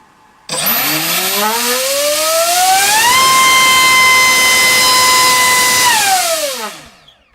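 A Warhead 3545 1850KV brushless motor spinning a 6x5 propeller on a thrust test stand, starting abruptly, whining up in pitch to a loud steady scream, then spinning down and cutting off.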